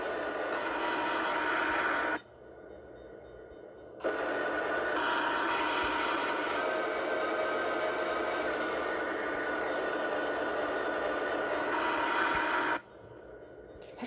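A video game train runs with a steady, loud rumbling roar and hiss that holds for most of the stretch, cutting out briefly twice.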